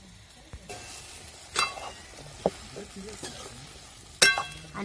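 Eggplant and potato vegetables are stirred and sautéed in a pan over a faint, steady sizzle, with a spoon scraping and clinking against the metal at irregular moments.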